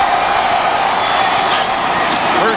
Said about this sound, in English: the crowd is back into it